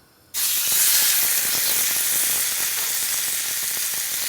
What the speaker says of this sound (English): Let's get our steak in there right now.